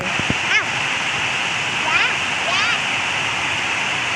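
Steady rushing water, like a stream or small waterfall, pours continuously with a bright hiss; a few bird chirps break through briefly.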